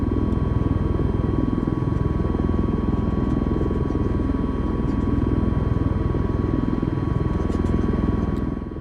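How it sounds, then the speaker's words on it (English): Steady, continuous rotor and engine drone of an Osprey tiltrotor aircraft in flight in Microsoft Flight Simulator, loud and unbroken throughout with a constant tonal hum on top. "It's like flying the Harrier, but you're in a prop rotor aircraft."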